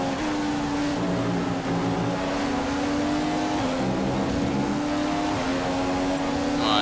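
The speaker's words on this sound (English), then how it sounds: "The car behind is running on full revs." An F1 car's engine in the F1 2015 racing game holds a loud, steady, high-pitched whine at full revs, with its tone shifting only slightly throughout.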